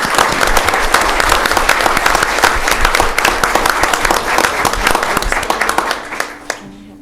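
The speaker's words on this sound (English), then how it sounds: "can we give the code officers a round of applause" Applause for code officers fills a city council meeting in Odessa, loud dense clapping from the room that thins into scattered claps at the end.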